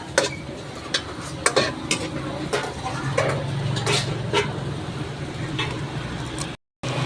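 Chicken sisig being stirred in a buttered pan, with scattered clinks and scrapes of a utensil against the metal over a faint steady sizzle, close and moderately loud.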